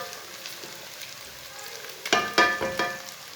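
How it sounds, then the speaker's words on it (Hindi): Ginger, garlic and onions frying in a pan for chicken daal, a soft continuous sizzle with a few louder stirring scrapes near the end, heard close up and without speech. "अदरक और लहसुन को लाजमी भूनना 2 मिनट तक।"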